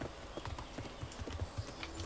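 Horse hooves clip-clop steadily in Kingdom Come Deliverance as a mounted rider moves off past cows, a brisk uneven rhythm of close, moderate hoofbeats under a faint background hum, with no talk.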